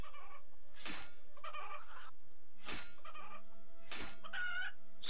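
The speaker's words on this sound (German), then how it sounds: "So, ein Huhn töten." A RuneScape game chicken clucks repeatedly: four or five sharp, close clucks in an uneven rhythm over a low, steady game hum.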